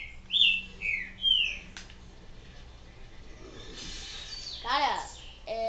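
Video game birds in Resident Evil 4 chirp and whistle in short bright bursts, several calls close together, with a trilling descending call later over a quiet background.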